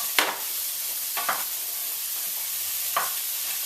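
Asparagus and thinly cut summer squash sauté in a pan under a steady sizzle, with three soft stirring scrapes spread across the few seconds.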